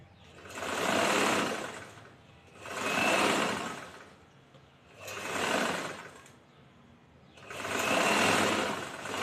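A sewing machine stitching a chudithar runs in four steady bursts of a couple of seconds each, with short pauses between them, close and fairly loud with no talk.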